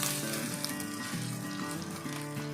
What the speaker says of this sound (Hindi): ये देखें गोश्त को मैंने अच्छे से फ्राई कर लिया है।